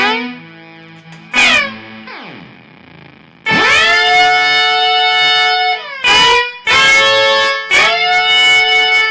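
An electric guitar runs through a canyon delay pedal set to a quick delay, with sustained, distorted chords ringing out loud and trailing into echoing repeats, cut by brief pauses and sweeping, siren-like pitch slides.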